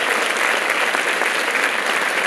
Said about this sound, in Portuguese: Aplausos para o Nelson Marca.